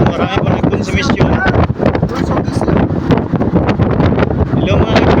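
Strong outdoor wind buffeting the microphone in loud, gusty rumbling bursts throughout, with a person speaking underneath.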